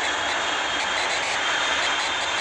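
An airplane engine drones steadily while the aircraft is in flight. It is a continuous, even roar with no voices.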